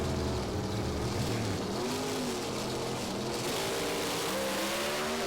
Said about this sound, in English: Just love the sound of these cars.